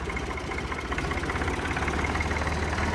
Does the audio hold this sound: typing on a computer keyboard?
no